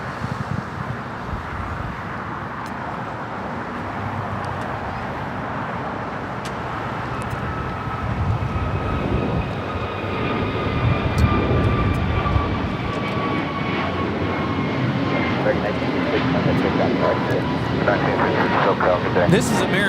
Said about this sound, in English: This is American Airlines 1966 taking off to Charlotte. It's on an A321neo.